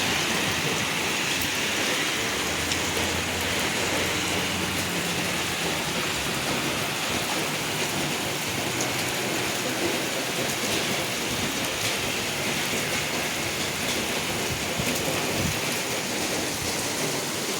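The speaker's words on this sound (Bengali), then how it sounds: "ভালোই বৃষ্টি হইতেছে।" Constant dense downpour in Oman near a mosque, a loud even hiss of rain pattering on surfaces with no pauses or voices, steady for the whole stretch.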